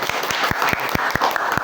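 Audience at an Indonesian pesantren halal bihalal gathering claps together in a steady, dense burst of applause with sharp individual hand claps standing out, close and loud, with no voices over it.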